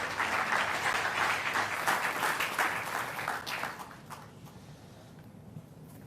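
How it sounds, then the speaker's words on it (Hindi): An audience applauds loudly to welcome the education minister at a state-level Haryana ceremony honouring UPSC and IIT-JEE qualifiers; the dense clapping holds steady for about four seconds, then thins and fades into quieter room noise. "आपकी जोरदार तालियों के साथ आइए उन्हें आमंत्रित करें"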